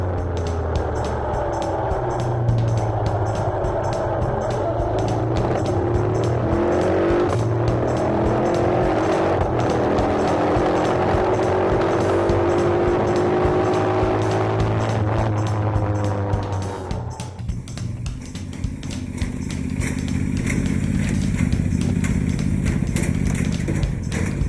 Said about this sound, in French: On roule sur une Norton.